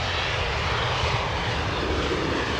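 Jet engines of a Convair 990 Coronado airliner roar at Heathrow Airport, a loud, steady, broadband rumble that holds without a break for the whole stretch and carries no voices.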